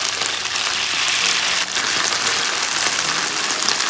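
Chicken pieces for Kung Pao chicken fry hard in a pan over high heat, giving a loud, steady, unbroken sizzle that holds close for the whole stretch with no one talking.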